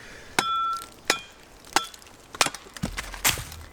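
A thin, flexible Tramontina machete blade is batoned through dry wood, giving a series of sharp metallic knocks with brief ringing, followed by a few cracks and splitting sounds, close and alone.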